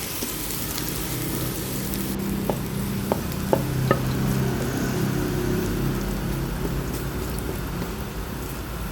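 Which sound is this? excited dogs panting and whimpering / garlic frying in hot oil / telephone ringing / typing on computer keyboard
garlic frying in hot oil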